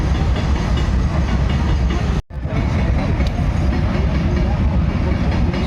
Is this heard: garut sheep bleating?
no